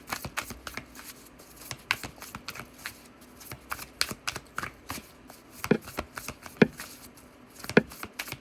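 Tarot cards are shuffled in quick, crisp bursts of riffling and tapping, close by, with irregular sharp clicks as the deck is handled.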